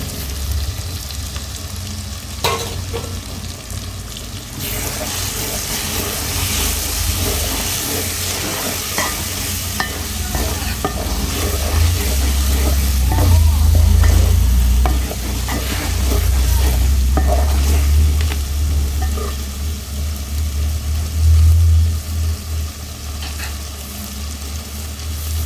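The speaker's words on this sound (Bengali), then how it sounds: "এখন মশলাগুলো কষাচ্ছি, মশলাগুলো কষাচ্ছি, এখন মাংসগুলো ঢেলে দেব" Spices sautéing and being stirred in a pan for a beef and taro curry. A loud, continuous sizzle runs throughout with steady stirring scrapes and no talking.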